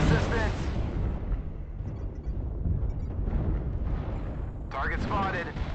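Artillery strike explosions in the video game MechWarrior Online, a dense continuous rumbling barrage of blasts that stays loud throughout, with a sharper burst near the end.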